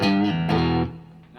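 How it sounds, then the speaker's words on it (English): Electric guitar played with only the Orange amp's own distortion in the middle pickup position on a Blues Boy guitar, a short distorted strummed chord that rings out and then decays. "playing the rhythm with just the amp distortion in the middle position on this incredible guitar"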